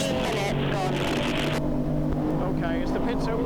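BMW M3 race cars of around 340–350 bhp roar past at Silverstone during a 750MC Roadsports race, a loud engine sweep that fades after a second or so, with voices talking nearby.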